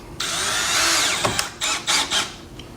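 A power drill whirs loudly for about a second, then spins down, followed by three short bursts as it drives screws, close by and with no voices.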